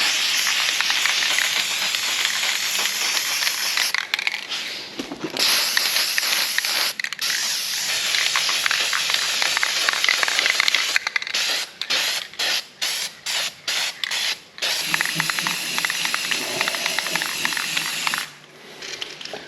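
Spray paint hissing onto tube bender parts in long bursts, then a run of short rapid spurts with gaps, close and loud, with a final longer spray and no talking.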